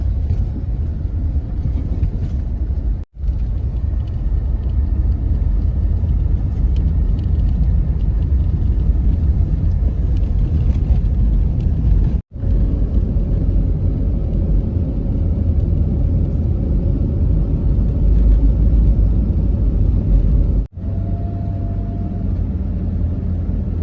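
Car driving on an unpaved rural road after tire chains were removed, giving a loud, continuous low engine and tire rumble with brief gaps, heard from inside the vehicle without talk.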